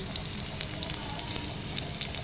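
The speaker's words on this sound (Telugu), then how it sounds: "అందులోనే కొంచెం ఆయిల్ వేసేసుకొని మిరపకాయలు వెల్లుల్లి దెబ్బలు ఆవాలు కొంచెం కరివేపాకు" Dried chillies, crushed garlic, mustard seeds and curry leaves spluttering in hot oil for a radish chutney tempering, a brief dense sizzle with sharp little pops and crackles, close by and without talk.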